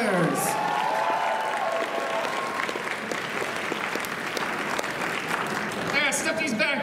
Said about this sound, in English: One more round of applause for our lovely cosplayers.